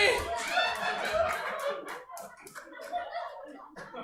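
A comedy club audience at a queer stand-up show claps and laughs in a scattered burst, moderately close, mixed with chuckles and some talking.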